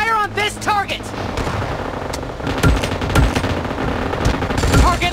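Gunfire in PUBG Mobile: rapid automatic bursts and heavy, booming shots fire in repeated volleys, loud and close. A voice talks briefly at the start before the shooting takes over.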